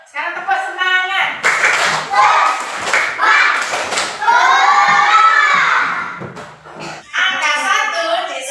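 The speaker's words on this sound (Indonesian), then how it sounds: "Sekarang tepuk semangat." A school class does the rhythmic 'tepuk semangat' clap in a lesson on fractions, children's voices chanting and shouting in bursts between sharp group claps, loud and close in the classroom.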